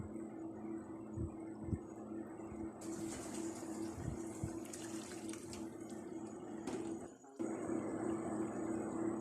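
Water pours into a pot of beef and potatoes, a running splash over a steady hum, cutting briefly before resuming, with faint clinks underneath.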